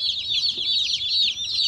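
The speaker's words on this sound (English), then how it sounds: "You can tell this is a Cornish Cross." Cornish Cross meat chicken chicks peeping in a dense, continuous chorus of high chirps, close and fairly loud with no talking.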